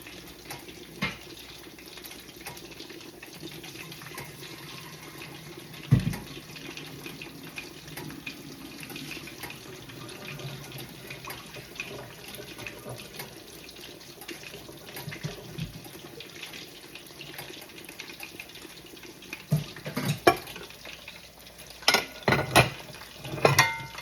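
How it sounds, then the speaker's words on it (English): Brown parboiled rice is rinsed under a running kitchen tap, with a steady close rush of water, occasional soft stirring, and clinks and sloshes of a pot near the end. "I like to wash my rice, on the brown parboiled rice, until the water is nice and clear"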